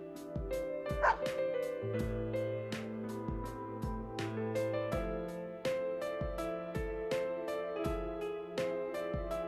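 Dog barking from the fighting game Persona 4 Arena: a regular series of short bark-like hits roughly twice a second over a steady, tonal musical backdrop, moderately loud and continuous throughout.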